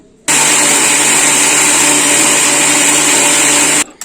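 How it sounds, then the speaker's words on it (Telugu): A mixer grinder whirs loudly and steadily for about three and a half seconds as it blends soaked sago with water for a sweet halwa, starting and stopping abruptly with no voices. "ఇప్పుడైతే మెత్తగా మిక్సీకి వేసుకుందాం."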